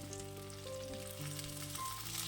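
Raw mango pieces with turmeric and salt sauté in hot oil in a pan, giving a close, even, low-level sizzle that holds steady throughout with faint tonal hum behind it.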